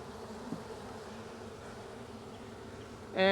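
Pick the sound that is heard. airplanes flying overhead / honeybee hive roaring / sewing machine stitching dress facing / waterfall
honeybee hive roaring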